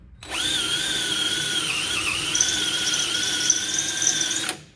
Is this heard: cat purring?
no